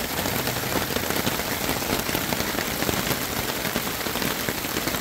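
Heavy rain pours onto a tarp at an abandoned-property stealth camp, a loud, dense, continuous patter that fills the whole stretch without a break.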